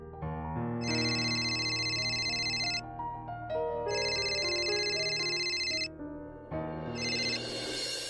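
An outgoing phone call rings in two long electronic ringback bursts with a short gap between them, loud and close, alone with no talk over it.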